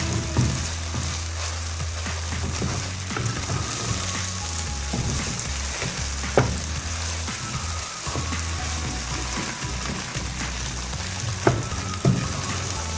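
Carrots and beans stir-frying for Chinese fried rice, a steady loud sizzle with scraping stirs and occasional sharp clacks of a utensil against the pan, continuous throughout with no talking.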